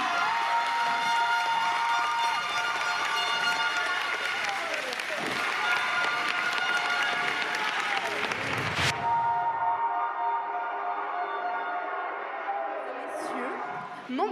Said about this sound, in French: J'aimerais que vous les applaudissez encore une fois bien fort. Et on les applaudit